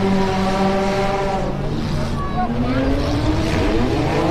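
Youth autocross cars race at a demolition derby, engines roaring loudly and continuously with rising and falling revs as they power around the track.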